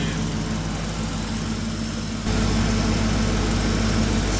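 A Lincoln Town Car engine idles with a steady low hum, and air sucks through an open vacuum line as a constant broadband hiss that grows louder and fuller halfway through.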